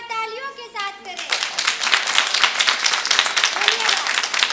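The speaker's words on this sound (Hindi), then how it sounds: "उनका स्वागत जोरदार तालियों के साथ करें।" A voice speaks briefly, then a room bursts into sustained applause, many hands clapping loudly and densely until the end, at a school for blind girls.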